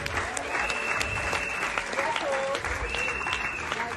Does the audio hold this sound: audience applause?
yes